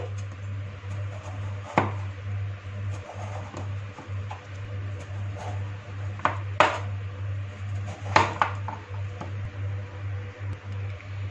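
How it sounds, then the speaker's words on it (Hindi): Knife cutting two large washed, peeled potatoes lengthwise on a board, giving a few scattered crisp chops and thuds over a steady low kitchen hum, fairly quiet. "इनको इस तरह से कटिंग कर लेंगे।"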